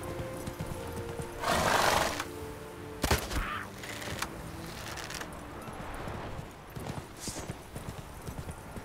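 In The Witcher 3, a horse whinnies loudly near the start, followed by a sharp crack and then hooves clopping along during riding, with some scattered louder knocks later.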